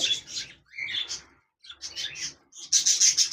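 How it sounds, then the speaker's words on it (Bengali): A pair of pet birds kept at a bird farm sends out bright, high chirps in quick clustered bursts, with short gaps between the phrases and a busier run of tweets at the end. "এখানে দেখতে পাচ্ছেন এক জোড়া পাখি রয়েছে"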